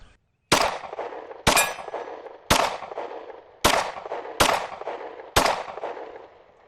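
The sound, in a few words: Ruger 9E 9mm pistol firing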